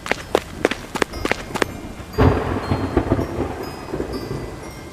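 Rain and rolling thunder outside a school at night in the Sakura School Simulator game: several sharp cracks early on, then a loud sustained rumble over steady rainfall, with no talk.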